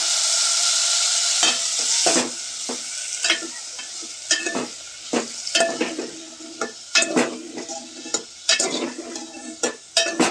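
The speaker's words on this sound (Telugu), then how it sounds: "టమాటాలు కూడా మనం అట్నే ఫ్రై చేసుకోవాలి." Tomatoes fry in a pan for a village-style tomato roti pachadi, with a steady sizzle broken by repeated scraping stirs of a spoon against the pan throughout.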